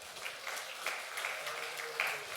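A church congregation claps in praise during a Spanish-language sermon: quiet, scattered hand claps with distinct individual strikes, heard from some distance.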